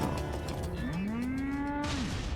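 Cow creatures in a video game let out one long, clear moo that swells and then fades over steady game background sound.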